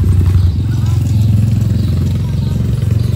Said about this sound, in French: Encore la moto.